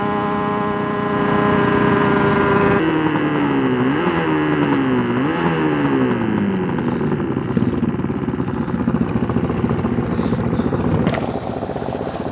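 A small TA125 tribute motorcycle from Griffin Custom is ridden at speed. Its engine note climbs and drops through the gears in steady rising sweeps, with wind rushing past close and loud throughout.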